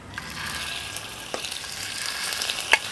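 Chicken pieces fry in coconut oil in a pan, giving a steady close sizzle with a few brief clinks and scrapes of stirring, and no voices.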